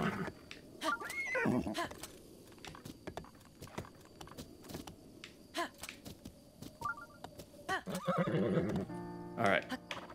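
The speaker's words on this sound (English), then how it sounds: "Horse." A horse whinnies amid clip-clopping hooves and scattered electronic beeps, with rain-like background noise and occasional talking, in the video game The Legend of Zelda: Breath of the Wild.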